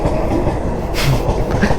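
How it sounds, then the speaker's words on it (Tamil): A train rolls past close by at a railway crossing, a loud steady rumble of wagons with rhythmic wheel clatter and brief metallic squeals, with no voices. "train crossing"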